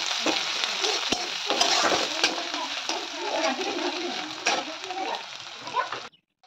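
Chopped medium onion frying with spices in oil for a Bengali rohu fish curry with eggplant and potato, a steady sizzle with stirring scrapes throughout, close and fairly loud, with no talk.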